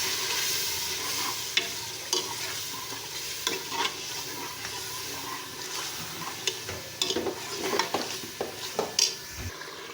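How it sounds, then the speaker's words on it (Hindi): Chopped tomatoes and green chillies stir-frying with a little water in a pan for daal, a steady sizzle with scraping stirs and occasional clinks of a spoon against the pot, close and continuous with no talk. "और इसको अच्छी तरह भूनेंगे।"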